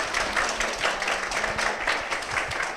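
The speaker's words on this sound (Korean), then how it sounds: "두 분께 다시 한번 박수 부탁드릴까요?" Studio audience applauding at a Korean church broadcast honoring two guests from a fasting prayer retreat, a steady wash of many hands clapping that fills the clip, with a faint voice underneath.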